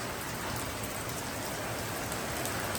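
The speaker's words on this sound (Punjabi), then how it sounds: "ਬੜਾ ਮੀਂਹ ਪਿਆ ਅੰਤਾਂ ਦਾ ਮੀਂਹ ਪੈ ਗਿਆ ਅੰਤਾਂ ਦਾ" Dense, steady downpour of heavy rain, a constant loud hiss with no pauses and no voices.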